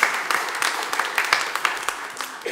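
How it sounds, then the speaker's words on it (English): A congregation claps in a church service, with a dense burst of applause from a modest crowd that carries on steadily and stays fairly close. "Clap it up. He deserves a clap."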